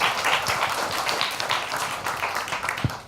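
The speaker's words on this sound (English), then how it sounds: "Would you please give a warm applause?" An audience at an academic economics lecture claps to welcome the speaker, a dense, fairly loud burst of many hands that tapers off toward the end with a single sharper knock.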